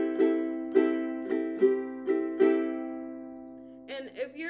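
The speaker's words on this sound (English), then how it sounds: "the strumming pattern will sound like this." Ukulele strummed in a down, down, up, down, down pattern, six clear bright chord strokes ringing out and fading, then a brief quick flurry of strums at the end; played alone without talk.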